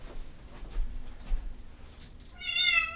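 A cat found inside a rental unit gives a single clear meow near the end, after a few seconds of quiet shuffling and handling sounds.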